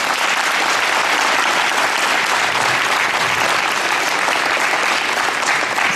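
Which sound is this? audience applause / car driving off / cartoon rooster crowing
audience applause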